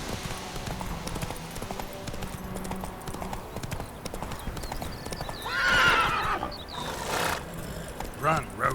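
Roach, a horse in The Witcher 3 video game, gallops with rapid rhythmic hoofbeats beneath game ambience, with loud whinnies and neighs rising near the end.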